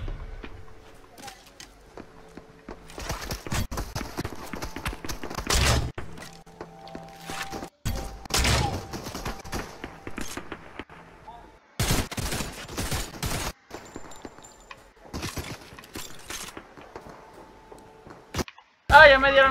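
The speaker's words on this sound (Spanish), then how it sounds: "Me disparan." Rapid gunfire bursts crack out repeatedly in a Fortnite match, some in dense volleys and others as scattered single shots, mixed with footsteps and other game effects while a voice talks excitedly over the action.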